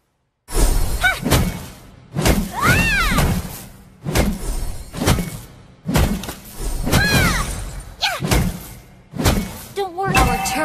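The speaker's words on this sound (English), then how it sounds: "Your team destroyed the turret." Several heavy impacts, crashes and whooshing effects from Mobile Legends as a turret is destroyed, with loud close bursts in a broken rhythm and ringing tonal accents.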